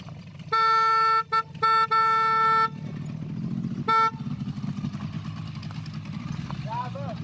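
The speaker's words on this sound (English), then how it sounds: "She's honking her horn" A vehicle horn honks nearby in a series of loud blasts, some short and one longer, over the steady rumble of a running engine.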